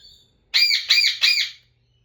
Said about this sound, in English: We're going to get more rain soon, judging by what the birds have to say about it all.